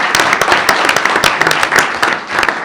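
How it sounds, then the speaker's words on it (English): Sparse applause for a middle school spelling champion at a school board meeting, a small group of hands clapping unevenly for a couple of seconds with distinct individual claps standing out. "Let's give him a round of applause."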